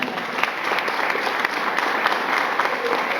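A church congregation applauds steadily, with dense, sustained clapping filling the space at an even level from start to finish.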